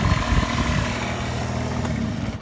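Honda Dio scooter engine running steadily after a carburetor repair, a continuous buzzing drone with low rumble, close and fairly loud throughout, no talk.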